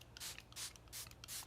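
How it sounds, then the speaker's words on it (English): A spray bottle of hair product mists in four short hissing bursts at a steady rhythm, close and fairly quiet, with no talk. "Let me stop for a second and spray this so I don't spray it in my mouth."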